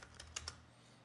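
A value typed on a computer keyboard: a short burst of about five quick, light key taps, close and quiet, with nothing else around them.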